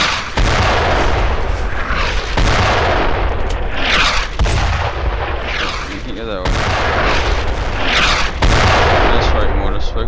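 Loud, dense gunfire in the World War II shooter Brothers in Arms: Road to Hill 30, with repeated booming rifle and machine-gun bursts and heavy blasts rolling over each other for the full stretch, close and continuous.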